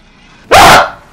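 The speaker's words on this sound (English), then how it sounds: "What's that sound? Oh, it's one of those suicide dogs!" One of the exploding suicide dogs in Warhammer 40k Space Marine lets out a single short, harsh snarl, loud and close, rising sharply and fading within half a second over a quiet backdrop.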